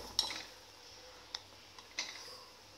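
A few sharp metallic clinks of a spoon against a pot of boiling moong dal sambar, spaced irregularly over a quiet background, with no talking.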